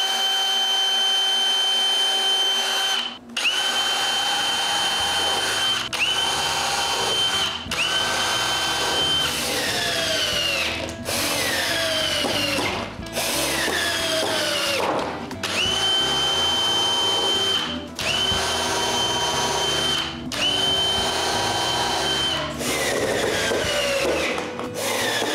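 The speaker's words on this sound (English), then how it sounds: "Now using clamps and 2 spacers, I can begin to screw this in place." Power drill driving screws into wood strips for a tall table saw rip fence, repeated whirring bursts with brief pauses between, close and loud, several screws in succession.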